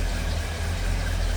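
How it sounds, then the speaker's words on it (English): A 1941 Chevrolet pickup engine idles smoothly with a steady, even low rumble, close and loud, with no speech over it. "Running pretty smooth. That engine doesn't even move in there."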